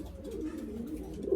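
Pigeons cooing in a soft, continuous low murmur throughout, close and steady, with no talk over them.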